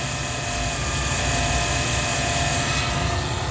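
A CS130-style 180 amp alternator on a serpentine test bracket spins at idle rotor speed. It gives off a loud, continuous whirring drone with a steady tonal whine, unbroken and unchanging.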